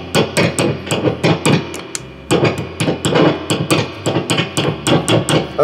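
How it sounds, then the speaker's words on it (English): A screwdriver taps repeatedly on the electronics of a 1989 Squier guitar, and each knock comes through the amplifier as a loud, sharp thump. The hits form a rapid, uneven series with a brief pause partway through. "let's test these electronics a little bit just by tapping on them with a screwdriver"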